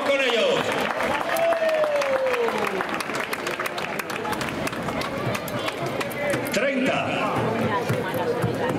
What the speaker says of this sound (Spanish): Vengan dos sillas, esos aplausos de ánimo, que a estos chicos todavía les queda concurso.